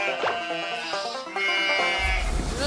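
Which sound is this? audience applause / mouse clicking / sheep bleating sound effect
sheep bleating sound effect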